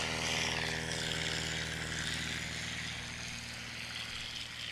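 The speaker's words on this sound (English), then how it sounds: "Dan Donahue spooling up the horsies. Unleashing the full stable." A STOL aircraft engine spools up at a Heritage STOL competition, giving a steady, droning propeller roar that holds throughout with a faint, even hum beneath it.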